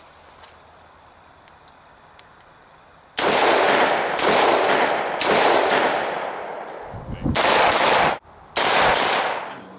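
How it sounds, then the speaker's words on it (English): A 16-inch mid-length rifle with a BCM Gunfighter Mod 0 compensator fires 55 grain Silver Bear ammo. After a quiet start with a few small clicks, several loud, close shots and rapid bursts follow one another in quick succession. "We're firing Silver Bear ammo."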